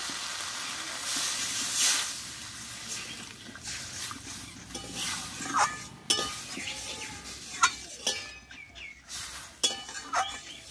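Water poured into a pan of potatoes frying in spices sets off a sizzling hiss, with clinks of utensils against the pot and intermittent bubbling and stirring.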